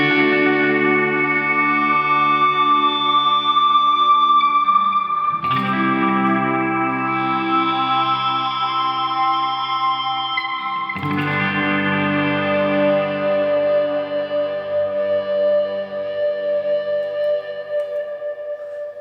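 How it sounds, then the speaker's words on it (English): A Fender Ed O'Brien EOB Stratocaster electric guitar playing swelling, sustained chords that ring out with delay and reverb, changing chord about every five seconds, with no one talking. "So if you add a good amount of delay and reverb to that, then you get some quite lovely sounds."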